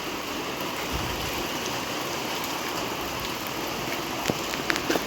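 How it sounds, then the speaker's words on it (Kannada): Heavy rain pours steadily in the open, a dense continuous hiss of drops on surfaces with a few sharper splashes and taps near the end, no voices. "ಮಳೆಯಲ್ಲಿ ಫುಲ್ ಮಳೆ ಮಾತ್ರ ಬರ್ತಿದೆ ನೋಡಿ."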